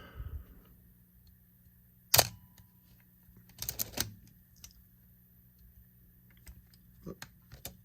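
A Canon F-1n film camera shutter firing at 1/250, one sharp close click followed by a softer cluster of mechanical clicks in a quiet room with faint hum.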